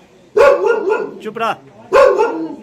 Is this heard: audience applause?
no